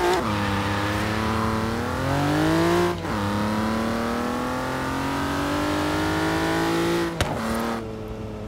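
A Tamo Racemo sports car in Forza Horizon 3 revs hard and accelerates with a loud, steady engine roar, its pitch climbing through the gears with brief dips at shifts around three and seven seconds.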